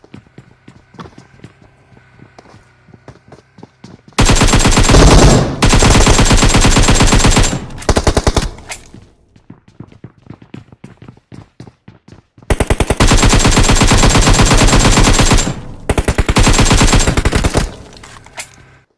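Loud sustained automatic gunfire from the video game PUBG comes in two long bursts of rapid shots, separated by quieter footstep-like thumps and faint background sound.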